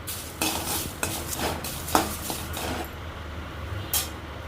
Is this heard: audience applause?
no